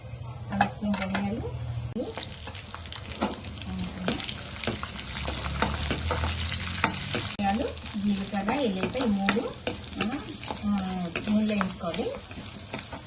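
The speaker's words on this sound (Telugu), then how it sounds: "ఇక్కడ ఫస్ట్ ఎండుమిర్చి చేయించుకోవాలి కాబట్టి కొంచెం వేసుకుందాం ఒక కొంచెం రెండు స్పూన్లు ధనియాలు వేసుకుందాం" Dried red chillies and coriander seeds roasting in a pan on the stove give a soft sizzle, with intermittent scraping and clinks of a spoon as a person talks over it.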